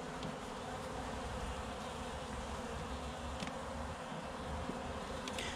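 A small honeybee colony hums with a dense, steady buzz that stays close and unbroken, with no voices over it.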